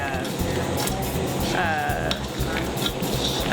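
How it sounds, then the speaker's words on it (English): Hazelnuts scraped and stirred through caramel in a pan over rising heat, a steady sizzling, scraping texture running continuously and fairly loud, with a voice talking over it. "we're going to then start really raising the temperature and stirring them frequently so we burn the caramel all the way around and coat all of the nuts"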